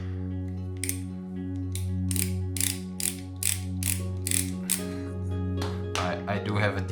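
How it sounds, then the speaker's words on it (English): A screwdriver unscrews the screw on a Sonoff TH10 casing, making a series of close, crisp ratcheting clicks in short irregular bursts over a steady low hum. "open up the screw that is keeping everything"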